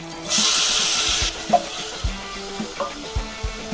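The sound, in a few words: tomatoes sizzling in frying pan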